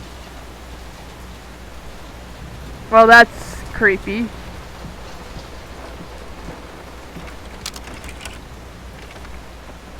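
Steady heavy rain from a storm in the video game Layers of Fear pours as a broad, even wash throughout, with someone speaking briefly over it partway through.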